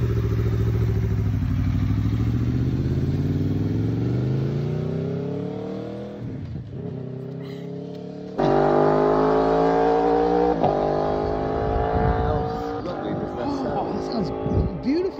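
An Aprilia Tuono 1100 V4 Factory motorcycle revs hard on a track, its engine note rising and falling in long sweeping pulls, loud and close, with a brief dip before surging again.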